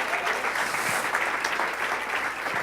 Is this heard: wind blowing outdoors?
no